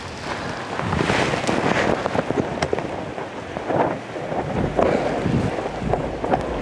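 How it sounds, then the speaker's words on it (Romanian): Gusty wind buffets the microphone outdoors at a carp-fishing spot in loud, uneven rumbling bursts that rise and fall throughout, with no clear voices. "Scuză-mă că trebuie să mă ferez de vânt."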